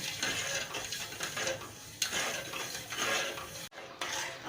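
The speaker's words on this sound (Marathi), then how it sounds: "आपण आता हे पाक करून घेऊयात क्रमानुसार सतत हलवत राहायचं आहे" Sugar syrup being stirred continuously over low heat for chana dal ladoo, a soft scraping and clinking of a spoon against the pan in uneven strokes, fairly quiet and with no voices.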